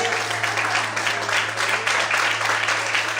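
A church congregation claps for the Lord, a steady dense wash of applause that fills the room evenly from start to finish, with a low steady hum beneath it.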